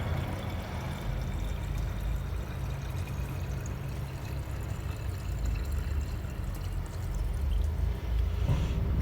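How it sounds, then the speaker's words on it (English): Diesel fuel is draining from the fuel filter of a 1999 Freightliner Century Class truck, a steady, continuous pouring gush that holds even for the whole stretch, close by, with no voices. "You want to drain all of that out."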